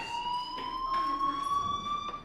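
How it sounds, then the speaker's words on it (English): A fire alarm in the Life Is Strange video game rings as a steady, high electronic tone with bright overtones and a slight rising drift, continuous and fairly loud throughout with faint background movement. "do you hear that fire alarm?"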